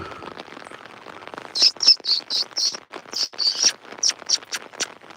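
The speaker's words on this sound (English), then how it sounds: "here's some birdies tweeting" Birds chirping among willows and coffeeberry shrubs on a nature walk at Rancho San Antonio, a rapid series of high, clear tweets close by, rising after a quiet start with no talking.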